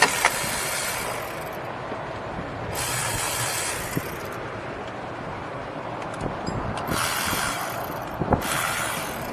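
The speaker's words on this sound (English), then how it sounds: "I might be able to get my electric ratchet on all these other ones" An electric ratchet whirs in a few sustained bursts while bolts come off the water pump of a Toyota Camry 2.5-litre four-cylinder, with scattered metallic clicks and knocks between runs and no talking.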